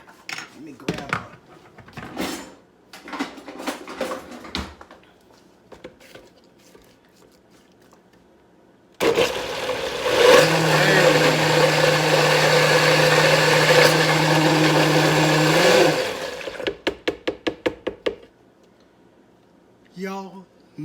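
A blender purees sweet potatoes for pie filling, running loud and steady for about seven seconds in the middle, with talking before and after it.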